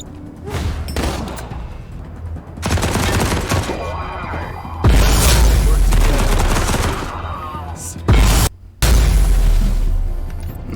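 Heavy gunfire from combat in Wasteland 3: dense bursts of shots and booming impacts in several loud waves, with brief pauses between volleys.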